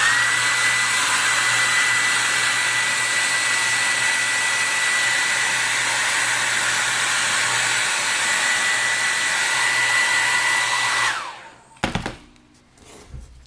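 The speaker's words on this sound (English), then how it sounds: "I'm going to hit this with the hairdryer for just a few seconds" A hair dryer blows steadily and loudly for about eleven seconds while drying paint on a carved wooden Santa Claus caricature cone, then switches off, followed by a few soft handling thumps.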